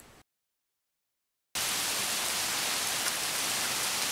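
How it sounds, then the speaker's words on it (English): Hailstorm heard as a steady, dense roar of pelting ice and rain on surfaces, loud and continuous after a short silent gap, with no talking. "Oh, just a little hailstorm, nothing much."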